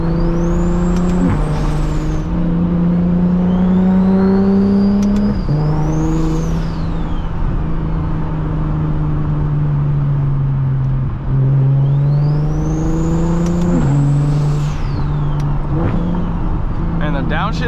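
A single-turbo BMW 335is drives on the road, its engine dropping and rising in pitch through several gear changes with loud whooshing turbo and blow-off sounds over a constant road roar and wind.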